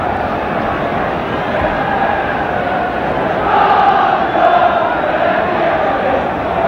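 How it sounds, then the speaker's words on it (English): Football stadium crowd at a 1979/80 match (Everton v Man City, Man Utd v Nottingham Forest), a loud sustained roar of cheering and chanting that swells midway, with no commentary over it. "and they are cheering back."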